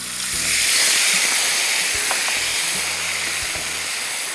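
Spice paste frying in a hot pan with whole cloves and cardamom, a loud, close, continuous sizzle with faint clinks and scraping stirs underneath.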